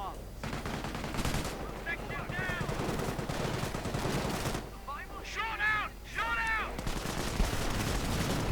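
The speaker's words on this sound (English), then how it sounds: "Tetrak blasting in. Doing a bit of damage with his tiny gun." A Tetrarch light tank firing its small gun in a World War strategy game, heard as steady bursts of battle gunfire under continuous background combat noise.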